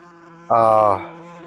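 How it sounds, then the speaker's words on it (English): A wasp buzzes loudly right by the microphone for about half a second, a sharp droning whine over a lower steady hum that then fades back. "my goodness Christ, a wasp"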